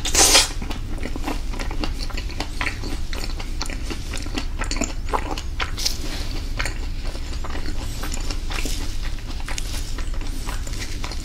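Close, wet chewing of a Schauessen pork sausage, steady soft mouth sounds and small crunchy bites running throughout with no talking, a brief sharp crackle at the very start.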